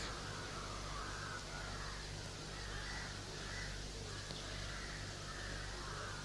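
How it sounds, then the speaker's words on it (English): Several crows caw repeatedly among tall trees outdoors in Perth, faint and fairly distant, heard over a steady broadband hiss of wind or background noise. "the crows should stop their noise"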